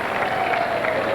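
A tennis crowd at a 1979 Las Vegas semi-final between Connors and McEnroe applauds in a steady, moderate wash of clapping, heard at a distance, with a faint tone running through it.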